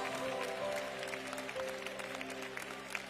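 A church congregation claps hands in worship, a steady dense patter of many hands held under sustained organ or keyboard tones, with some voices mixed in.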